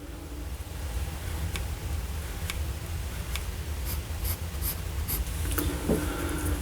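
Jinhao 9019 fountain pen nib scratching softly across paper in short strokes, faint and close, with light ticks and pauses over a low background hum.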